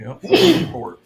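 A single sharp sneeze bursts out loudly, with a person speaking briefly just before and after.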